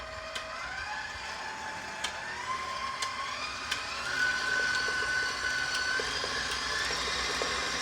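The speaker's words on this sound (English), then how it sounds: "Now I'm going to put this KitchenAid, start it out medium-low, and put these eggs in one at a time" A KitchenAid stand mixer beats eggs, a steady whirring motor hum with a whine that rises as the speed is stepped up, and faint clicks of the beater against the bowl.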